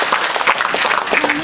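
Crowd applause for performing groups at a Balinese temple ceremony in a village, a close, steady wash of many hands clapping throughout.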